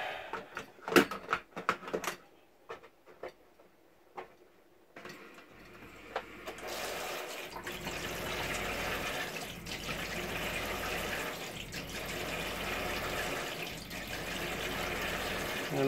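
Hot water runs steadily into a clean-water tank being cleaned and disinfected, a continuous rushing, filling wash that starts after a few seconds of quieter knocks and handling sounds and carries on at moderate level.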